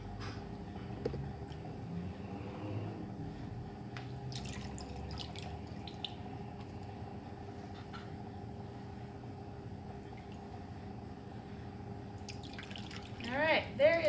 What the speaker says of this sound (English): So we're just going to rinse these apples off.